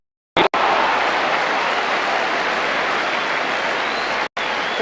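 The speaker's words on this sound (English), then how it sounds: "Cumming gets applause for his run" A football crowd at a 1983 Grimsby Town versus Wolves match applauds a player's run into the area, a dense, sustained wash of clapping from a large stand, loud and continuous after a brief cut.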